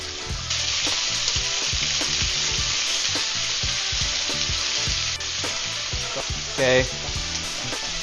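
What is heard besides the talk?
steak frying in a hot pan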